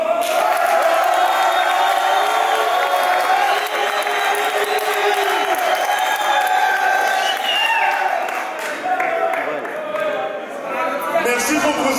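Crowd at a political meeting applauding and cheering loudly and continuously, with whoops and shouts mixed into the dense clapping throughout.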